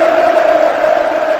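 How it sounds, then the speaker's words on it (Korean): A large crowd in a congress hall roars with sustained cheering and hurrah shouts, a dense, loud, unbroken wall of voices. "온 대회장이 떠나갈 듯한 만세 환호성이 터져오르는 가운데"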